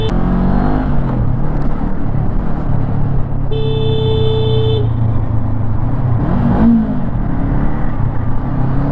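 Honda NX500 adventure motorcycle pulling away in first gear, engine note loud and close with a steady rumble throughout and a brief higher tonal whine partway through, no talking.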